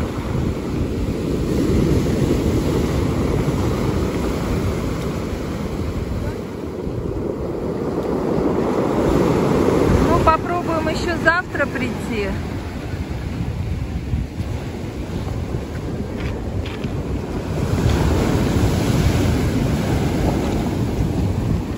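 Rough, storm-driven waves crash continuously on the Volkonka shore while strong wind rumbles across the microphone, loud and unbroken, with a single short spoken word midway.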